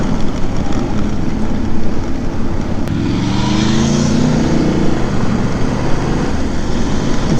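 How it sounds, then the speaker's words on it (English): A loud 600i motorcycle with an aftermarket IXIL exhaust roars nearby over steady road noise, its exhaust note rising and falling briefly as it passes. "that's the 600i on IXIL exhaust"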